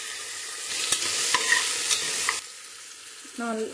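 Onions and tomatoes fry in a pan with a close, crackling sizzle and a few sharp stirring clinks. The sizzle drops away suddenly after about two and a half seconds, leaving a quieter tail.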